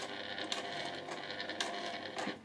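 A sewing machine stitches cotton fabric for a small drawstring pouch, giving a steady, faint mechanical whirr with light rhythmic ticks throughout.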